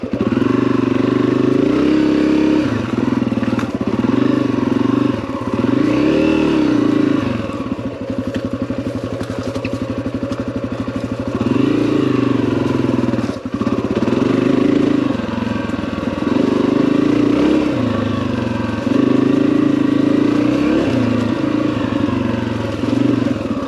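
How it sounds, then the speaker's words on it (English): A motorcycle rides a rocky off-road trail near Buckhorn, its engine droning steadily and loud throughout with rising and falling revs and some clatter, close to the rider and with no talk. "Just brought the bike out."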